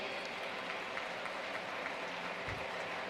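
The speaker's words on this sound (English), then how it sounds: "Let's give them a big round of applause," An audience gives sustained applause at a live university event, a dense, even wash of clapping that holds steady throughout.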